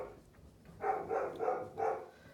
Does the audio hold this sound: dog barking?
yes